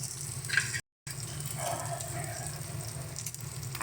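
Spice paste frying in a pan for a Bengali pomfret mustard curry as turmeric powder and salt go in, a steady close sizzle with a brief cut, soft and constant.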